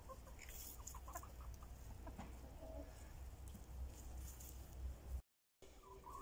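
Chickens cluck around a lone rooster penned apart on a backyard farm, the calls scattered and fairly faint against a steady low hum, with a brief dropout near the end.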